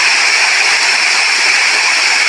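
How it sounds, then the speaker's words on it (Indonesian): Water rushes steadily and powerfully down into a pool at Gunung Poteng in Singkawang after rain, a dense, continuous close-up roar with no voices. "Air mengalir dengan begitu lancar di tempat ini karena kemarin turun hujan."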